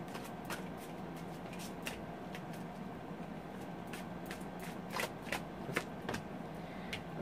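Tarot of the Tattoo Age deck being shuffled and handled, a steady soft riffling with repeated crisp card snaps and flicks, close and fairly quiet, no talking.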